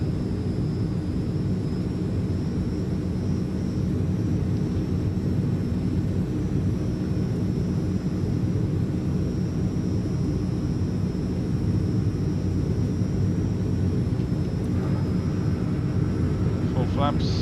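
A Transall C160 cargo plane in Microsoft Flight Simulator drones on with a steady, loud turboprop engine hum that holds even and unbroken throughout, with no pauses or changes in pitch.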